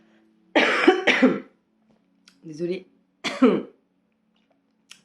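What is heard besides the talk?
coughing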